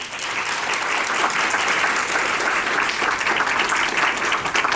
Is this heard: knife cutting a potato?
no